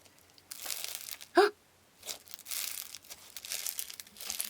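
Slime mixed with eraser crumbs and full of trapped air bubbles is squished by hand, giving several close crinkly, crackling bursts with one sharper pop-like squelch in between and short quiet gaps.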